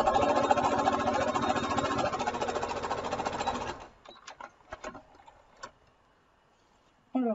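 A sewing machine stitches a folded ribbon onto a washable sponge with a fast, steady mechanical rattle for about four seconds. It then stops, leaving a few soft handling clicks and a short burst at the end.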